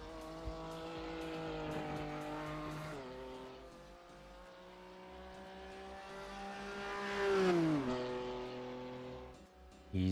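A BMW GT3 race car laps Silverstone in a racing video game, its engine droning steadily with two distinct gear-shift pitch drops and a rising rev in between, plus faint tire noise.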